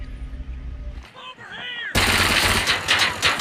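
Gunfire in the video game Arena Breakout, with a quieter stretch of weapon sounds and effects followed by a loud, dense burst of automatic fire up close, faint speech in the background.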